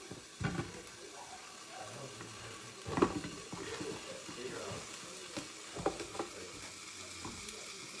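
Sausage browns in a hot pan with a soft, steady sizzle, broken by a few sharper clatters and stirring knocks, heard fairly quietly with no voices.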